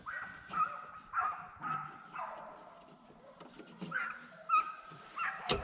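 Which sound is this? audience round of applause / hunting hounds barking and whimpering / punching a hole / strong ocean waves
hunting hounds barking and whimpering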